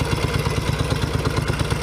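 A 1964 Royal Enfield Interceptor 750 motorcycle engine idles close by with a loud, steady, slightly uneven mechanical chugging and clatter throughout.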